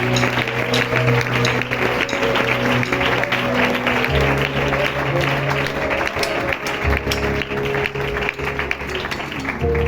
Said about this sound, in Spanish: ¿Puedes darle un fuerte aplauso para el Señor?